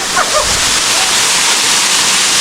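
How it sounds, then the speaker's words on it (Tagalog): Luluwasan Falls roars as a loud, steady, broadband rush of falling water up close, with a brief trace of a voice near the start. "Nasa, Luluwasan Falls kami."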